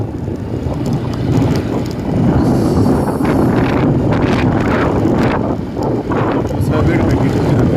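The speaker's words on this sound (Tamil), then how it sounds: "இங்கே வந்து சூப்பராக அடிக்குது காற்று" Strong wind buffets the microphone of a moving bike, a continuous loud roaring rush with gusty surges and dips over the ride, with a voice talking underneath.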